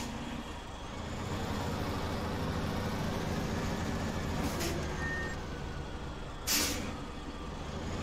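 A heavy truck hauling a trailer in SnowRunner rumbles steadily at low revs while maneuvering, with two short sharp air-brake hisses breaking through midway and near the end.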